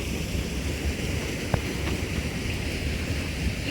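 Water pouring into a freshly filled irrigation canal, a steady broadband rush that runs unbroken throughout, loud and close with no voices.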